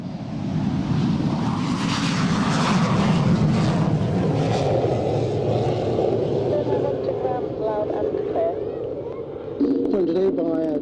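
A Hawker Hunter jet fighter flies a display at Waddington Airshow, producing a continuous broad, rumbling engine roar that holds steady and swells slightly near the end, with a voice talking over it.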